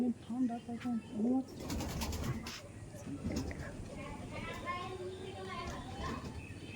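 Pigeons at a loft sale coo in short repeated phrases at the start, followed by wing flutters and bird sounds mixed with people talking nearby.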